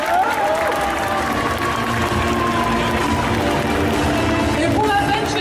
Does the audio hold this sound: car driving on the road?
no